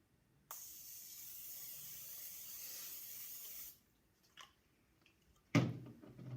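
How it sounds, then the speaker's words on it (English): A steady aerosol hiss of cooking spray onto a crepe skillet lasting about three seconds, followed by a few soft clunks and a sharper knock near the end. "spray some cooking spray on it"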